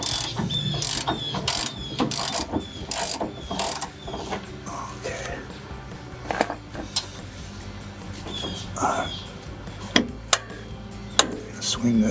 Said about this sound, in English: Let's switch over to the ratchet.